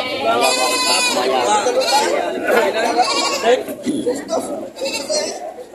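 Several goats bleat repeatedly over a busy crowd of people talking at a goat market in Padre Garcia, Batangas, the calls overlapping and coming from nearby.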